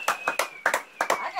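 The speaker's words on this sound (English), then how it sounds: "Come on, clap your hands." Hands clap for a child at a sixth birthday party, about eight quick sharp claps in an uneven rhythm, close and fairly loud, with a thin steady tone running beneath them.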